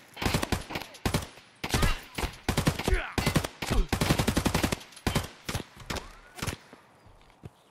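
Rapid gunfire in the shooter Escape From Tarkov: sharp, loud shots in quick bursts and short volleys, close and punchy, with brief pauses between strings of rounds.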